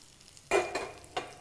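Tempering sizzles and is stirred in a pan with a potato and ridge gourd curry, two short bursts of frying crackle over a quiet background.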